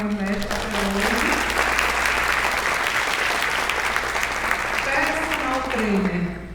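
Lecture audience applauding a doctor's introduction, sustained dense clapping throughout with a voice speaking over the start and end.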